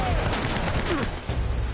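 Enemy gunfire in Uncharted: Drake's Fortune, a rapid burst of repeated loud shots and impacts blending into a dense fusillade, close and harsh for under two seconds.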